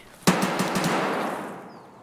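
A sharp burst of gunfire in the game Escape From Tarkov erupts after a brief pause, a quick rattling volley that rings out and slowly fades.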